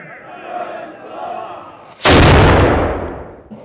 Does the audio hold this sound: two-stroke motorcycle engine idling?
no